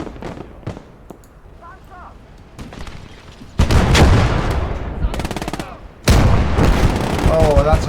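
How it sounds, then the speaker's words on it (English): Heavy gunfire from a StuG assault gun in a World War II battle video game: sharp cracks give way to loud, dense booming blasts that continue over the second half, with a second heavy report near the end and voices briefly heard early on. "Oh, that's a heavy gun. What's that? It's a Stug."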